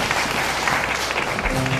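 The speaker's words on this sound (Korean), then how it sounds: "박수 부탁드릴게요" A small audience at a literary concert applauds a poet after a reading: a short spell of even, close clapping with a crowd murmur beneath it and no voice on top.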